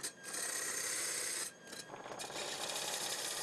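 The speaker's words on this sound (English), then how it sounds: "Subtly adjusting the angle of the chisel, he constantly searches for the ideal speed for the quality of the material and the object he is making." A chisel shaving and carving wood in a Kyoto woodcraft workshop, giving steady rasping, scraping strokes that run nearly continuously with a brief pause midway, close and fairly quiet.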